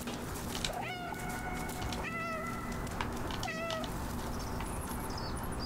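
Three distinct cat meows in the video game Stray, evenly spaced over a soft ambient background, clear and fairly close.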